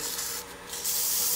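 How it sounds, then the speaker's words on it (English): Sandpaper is rubbed over a bead on a lathe-turned wood project, giving a close, soft, continuous scratchy hiss that swells briefly near the end. "I'm going to just take my sandpaper and kind of go over that bead just a little bit."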